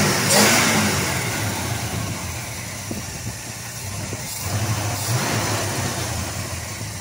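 A 1939 Ford Deluxe two-door coupe engine starts with a brief crank, then idles and revs in a few rising swells, loud and close with no speech.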